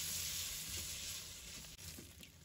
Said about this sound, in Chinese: 把五花肉放入锅中，开大火快速的翻炒均匀，把五花肉炒熟炒香